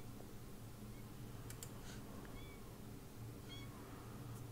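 A kitten in The Sims 4 gives a few soft, faint meows over a steady low in-game background hum, with light clicks scattered through; no one speaks.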